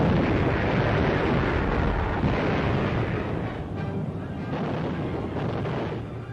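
Bombs bursting on a German supply base in the desert sand, 1943 wartime footage: a continuous dense, roaring rumble of blasts with heavy low-end, loud throughout with a slight dip midway, no distinct separate booms.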